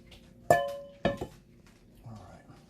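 A spoon stirring and knocking against a pot of blueberry preserves, two sharp metallic clinks close by followed by softer scraping, with faint background sound.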